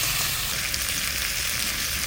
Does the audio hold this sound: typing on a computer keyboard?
no